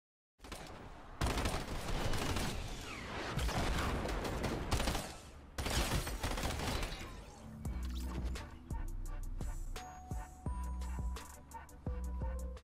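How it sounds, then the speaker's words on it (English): Burst SMG firing in Fortnite, dense rapid bursts of gunfire with loud crashing impacts in the first half, then sharper spaced shots over mechanical clicks and tonal game sounds, no talking. "I'm going to play a clip now of the new Burst SMG"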